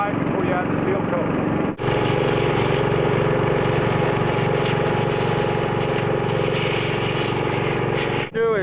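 A compressed air blower cleans cracks in pavement ahead of seal coating, giving a loud, steady engine-like drone that runs nearly unbroken, with two brief dips.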